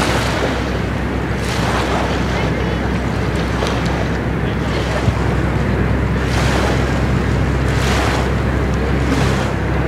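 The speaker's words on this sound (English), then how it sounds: "We're at the beach." Ocean waves wash steadily onto an island beach, with surf surging in several swells under strong wind buffeting the microphone.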